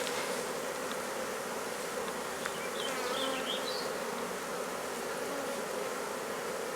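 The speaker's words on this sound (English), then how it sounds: "You got bees all over you. I know, I'm covered in bees." Dense, steady buzzing of a newly caught honey bee swarm fills the air, constant and close, with individual bees whining past now and then.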